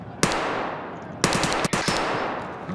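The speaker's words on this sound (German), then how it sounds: "Ja, ich habe bloß die Schüsse gesehen." Gunfire in the online shooter Escape From Tarkov Arena: a sharp shot, then a second loud burst about a second later followed by rapid close shots and a brief cutoff, with a dense, reverberant sustained wash between them.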